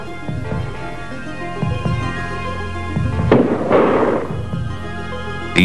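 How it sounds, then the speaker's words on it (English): Pyrotechnic noise-making devices used to scare birds at an airport: sharp popping bangs and one bright crackling burst, fairly loud, over a steady humming background. "And PYROTECHNICS, the use of noise-making devices."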